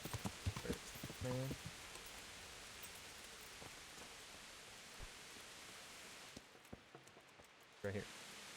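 Horse hooves clip-clop faintly in the medieval game Kingdom Come: Deliverance, a few quiet scattered steps over a steady rain-like hiss, with brief bits of talk near the start and end.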